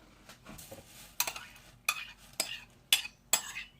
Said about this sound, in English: and mix them with the cornflakes. And just stir them around.